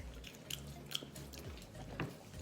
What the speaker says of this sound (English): Got the shrimp in. We're gonna taste it.